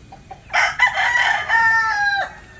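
A rooster crows loudly nearby, one long strained call with a rising and falling cadence, preceded by faint clucking.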